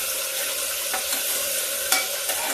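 Ginger garlic paste fries in hot oil with a steady, close sizzle and crackle, broken by a few soft stirring scrapes and small pops.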